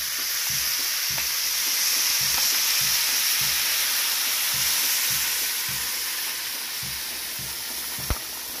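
Salsa hits frying meat in a pan for a bean and beef stew, giving a loud, steady sizzle with soft stirring scrapes pulsing underneath, ending with a sharp tap near the end.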